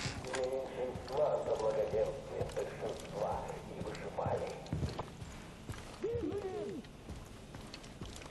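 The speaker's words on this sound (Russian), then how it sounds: "Пошли, конь." Horse hooves clip-clopping in Far Cry 5, a steady run of fairly close beats under game sounds and voices.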